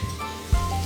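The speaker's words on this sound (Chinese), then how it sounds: "再来煎牛排，喷点油。" Beef steak frying in a pan with a spray of oil, a steady close sizzle that jumps with a sharp low thump and louder hiss midway through the short moment, no voices.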